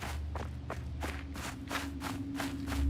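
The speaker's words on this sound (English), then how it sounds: "A very convincing footstep sounds." Footsteps in a horror video game tread in a steady rhythm, about eight soft, evenly spaced steps over a low background hum that swells toward the end.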